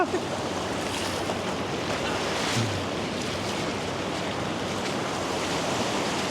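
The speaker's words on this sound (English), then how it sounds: "Wait till the wave stop." Ocean waves breaking on a beach, a steady broadband wash of surf rolling and crashing with wind buffeting the microphone, loud and continuous with no speech.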